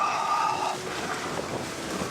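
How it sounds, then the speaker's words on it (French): Gusting wind buffets the microphone in stormy weather with rain and hail, a steady broadband roar that stays loud and continuous throughout with no voices. "autant dire qu'il y a du vent, qu'on n'y voit rien. Il pleut, qui grêle"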